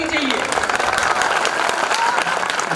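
A Hindi poetry recital audience at a kavi sammelan bursts into loud, sustained clapping that fills the hall, with a speaker's voice running over the applause.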